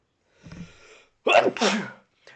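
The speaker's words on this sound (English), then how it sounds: "There's the sneeze I've been waiting for an hour and a half for." A single sharp sneeze bursts out after a brief sharp inhale, loud and close, in an otherwise quiet room.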